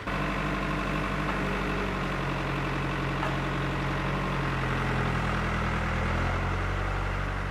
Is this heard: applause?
no